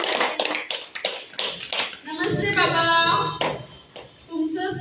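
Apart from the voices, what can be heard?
audience clapping hands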